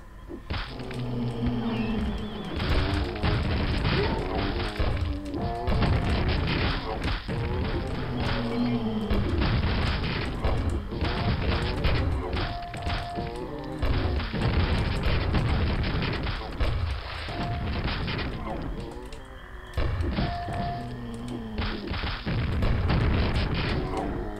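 Grenade launcher blasts go off in the classic shooter Quake: a rapid, irregular series of thudding explosions, with punchy booms and mechanical clunks repeating for over twenty seconds.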